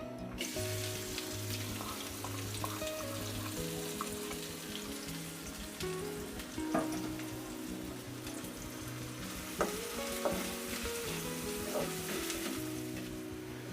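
Chopped onions frying in soybean oil in a wok give a steady, close sizzle with scattered stirring scrapes and clicks, and low musical tones run underneath throughout.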